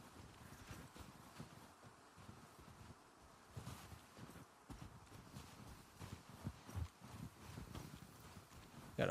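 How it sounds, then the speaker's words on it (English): Horse hooves clip-clopping as a horse follows the player in The Last of Us Part 2, soft irregular steps over rustling ground and light wind, faint and somewhat distant, with no talking. "The horse is following us."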